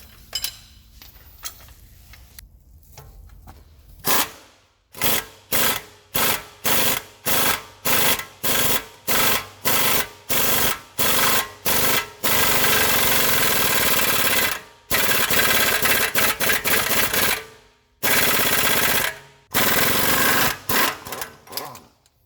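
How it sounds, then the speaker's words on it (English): Rear hub nut on a 2009 BMW 750i worked by an impact gun: loud rapid hammering bursts, a dozen short repeated blasts followed by a few longer sustained runs, close and alone without talk. "now we're gonna use a gun to tighten this, and it's gonna pull it out as much as we need"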